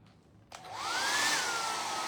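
A hair dryer blows hot air over screen-printing ink on a silk screen, switching on abruptly with a rising whine that settles into a steady, loud, close rushing roar.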